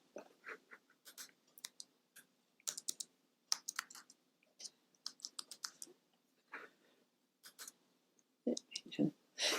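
Typing on a computer keyboard, quiet scattered clusters of clicks in uneven bursts, close and soft against a near-silent background.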